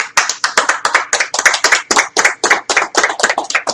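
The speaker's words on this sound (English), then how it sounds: "Most delayed clapping ever." An audience at a live video game marathon event claps in loose, uneven bursts, a few close pairs of hands slapping together rapidly for several seconds, loud and with no talking.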